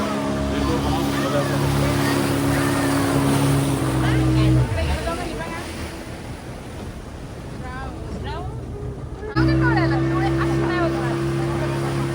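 A motorboat rides out on the sea off Goa. The engine drones steadily and loudly throughout, with wind and water rushing over it. The engine note drops for a few seconds in the middle and then picks up again.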